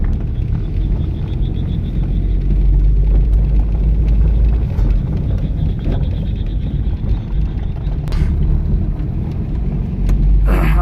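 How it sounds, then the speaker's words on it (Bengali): A car driving along a narrow village road in Bangladesh, giving a loud continuous low engine and road rumble that holds steady throughout, with a couple of brief clatters and no clear talk. "এই মুহূর্তে গ্রামের সরু পথে ড্রাইভিং করছেন আপনারা দেখছেন"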